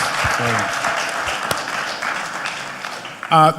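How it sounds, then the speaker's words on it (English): Audience at a youth business competition event gives a round of applause, a steady wash of clapping with a voice speaking briefly near the start and again at the end. "You ladies deserve another round of applause."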